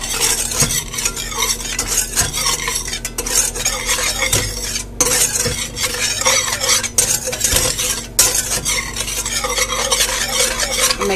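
A non-stick whisk stirs mandarin orange sauce in a non-stick pan, a steady scraping swish over continuous sizzling, with a few soft clinks of utensil against the pan throughout.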